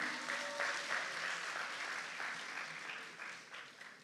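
Clapping from a gathered audience rings out steadily for several seconds, fairly dense but quiet and somewhat distant, tapering off at the end.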